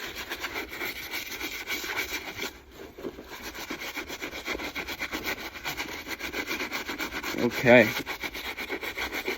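A Kobe Bryant shoe is scrubbed with cleaner in a steady, close, continuous brushing rub, with one brief louder scrape near the end and a single short spoken word.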